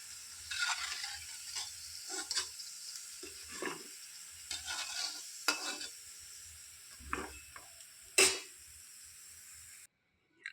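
Rodga dough balls frying in a pan, a soft steady sizzle broken by scrapes and clinks of a spoon stirring and lifting them, ending with a louder metallic knock.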